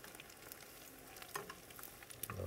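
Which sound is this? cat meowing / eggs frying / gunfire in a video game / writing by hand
eggs frying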